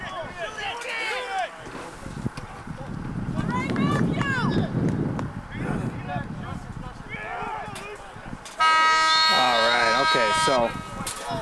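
A lacrosse game between Oneonta and Brockport, where a long, steady buzzer sounds for about two seconds to end the first quarter, heard under continuous commentary over light wind noise.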